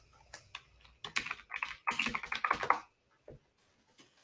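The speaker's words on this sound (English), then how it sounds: "You type in Skiff Life." Quick bursts of typing on a computer keyboard while a search for Skiff Life is entered, clustered keystrokes close up, a few scattered clicks before and a short pause with stray taps after.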